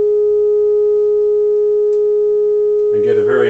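A steady, pure sine tone from a signal generator, sounding while an AWA Radiola 528MA radio is repaired, holds loud and unbroken throughout, and a burst of broadband noise joins near the end.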